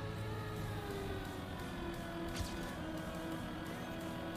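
Race car engine held low in fourth gear in the Trackmania video game, a steady strained droning hum at low volume with a faint brief whoosh midway.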